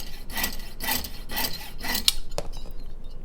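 A jeweler's saw blade cutting out a metal signet ring in quick back-and-forth rasping strokes, about four close, bright scrapes before a final click and quiet.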